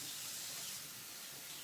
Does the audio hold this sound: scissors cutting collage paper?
no